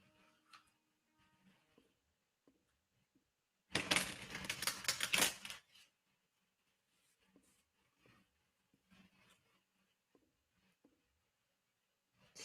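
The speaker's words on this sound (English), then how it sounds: "Let me shuffle real quick." Tarot cards riffle-shuffled in one dense, crisp burst lasting about two seconds, with only faint scattered ticks and handling sounds before and after in a quiet room.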